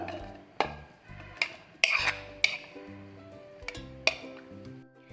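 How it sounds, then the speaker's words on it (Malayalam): Cooked carrot goes into a mixer jar with a series of sharp clinks and taps of a spoon against the jar, irregular knocks over a quiet background with no talking. "അതിലോട്ടേക്ക് വേവിച്ച് വെച്ചിട്ടുള്ള ക്യാരറ്റ് ചേർത്ത് കൊടുക്കാം"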